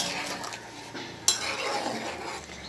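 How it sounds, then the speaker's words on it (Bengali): A spoon stirs hariyali chicken in a pot after pepper powder goes in, giving soft scraping and scuffing over a low simmering bubble, with one sharp metallic clink partway through. "আমি গোলমরিচ গুঁড়োটা দিয়ে নেড়ে চেড়ে"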